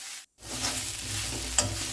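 Onions fry in a pan on a gas stove, turning golden, with a steady close sizzle, a brief dropout early on and a small scrape of stirring near the end.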